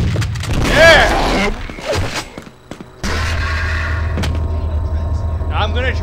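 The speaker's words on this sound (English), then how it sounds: "Okay, rocket launcher." Rocket launcher blasts in the Quake video game ring out as booming, gunfire-like bursts over a steady game drone, with a player talking across parts of the clip.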